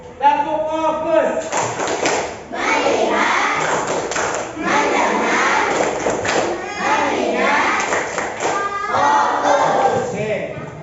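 A room of children repeats a clapping chant, shouting the words together loudly while hands strike in quick rhythmic thumps, the crowd of voices dominating the clap sounds throughout.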